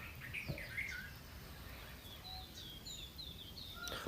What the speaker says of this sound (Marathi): चिमण्यांचं नुसतं किलबिलाट सुरू आहे